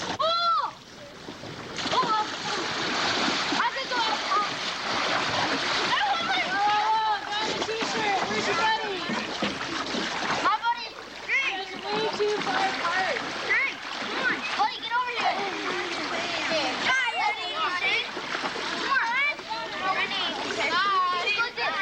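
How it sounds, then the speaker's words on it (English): People swimming at a lakeside camp splash into the water, with frequent splatters scattered under lively overlapping voices and shouting throughout. "I'm walking in and jumping into that."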